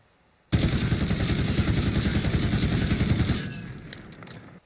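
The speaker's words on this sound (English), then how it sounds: "So this is going to be the recoil pattern for the CR-56 AMAX." Full-auto burst from a CR-56 AMAX rifle with no attachments in the video game Warzone, a loud rapid stream of shots lasting about three seconds, then tailing off into faint clinks and scattered echoes.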